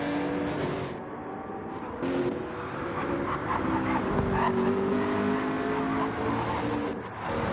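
Race cars in the GTR racing game during a Super GT Championship round at Alsace Village, engines droning and revving continuously with tire squeal and cars sweeping past, loud and steady throughout.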